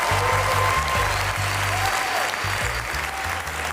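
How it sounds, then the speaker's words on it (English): Audience applause in a performing arts center at a piano event, a dense, continuous roar of clapping with low tonal hum or music underneath, no talk. "Applaud for yourselves and the magic that's going to be taking place on stage."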